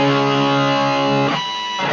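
Distorted electric guitar playing a riff: a loud, buzzing sustained power chord, then a brief choppy tapped figure before the chord returns, close and alone.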